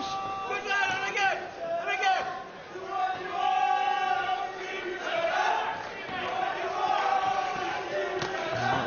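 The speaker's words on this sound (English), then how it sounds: "Might just about be able to hear the chants from the army colleagues that Turner has in the crowd." Boxing crowd at a 67kg ABA amateur final in 2011, with army supporters chanting and shouting in a sustained swell of voices, rising and falling through the bout over steady hall hubbub.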